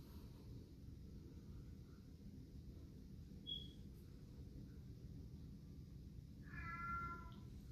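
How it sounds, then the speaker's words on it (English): A cat gives a faint short meow midway, then a clearer drawn-out meow near the end, over a quiet room hum. "now he's going to meow for me"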